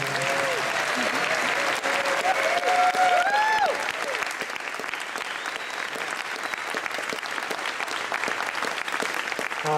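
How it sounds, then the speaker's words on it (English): Seated audience at a Hall of Fame induction ceremony breaks into sustained, loud applause lasting the full stretch, crowd cheers and voices rising over it early on before settling into a dense, even clapping roar. "Can we have one last round of applause for all of them, please?"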